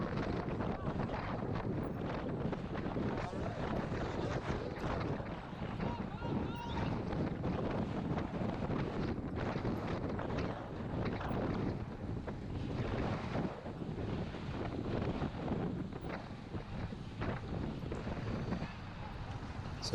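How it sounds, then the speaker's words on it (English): Strong wind roars steadily across a cyclist riding a criterium road race, with a near, continuous gusting rush under faint voices. "The wind's coming off of our right."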